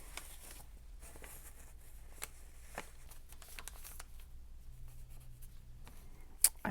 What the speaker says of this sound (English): I'm just going to sketch a line across it.